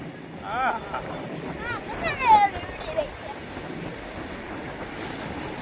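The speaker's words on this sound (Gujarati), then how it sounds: "હા ડીઝલની ટ્રેન નીકળી ગઈ છે" A diesel freight train rumbles past with a steady, broad roar and brief squealing from the wheels, while people talk nearby.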